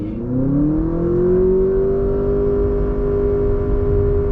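A 2023 Honda Accord Sport pulling away in sport mode from inside the cabin, its CVT giving a smooth, steadily rising engine drone with no gear-change breaks, loud and continuous throughout.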